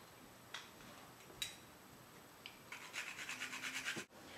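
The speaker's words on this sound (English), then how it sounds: "I'm going to get some nutmeg out and grate a little bit in" Nutmeg grated against a hand grater gives a few faint isolated scrapes, then a quick run of rhythmic rasping strokes close by before stopping abruptly.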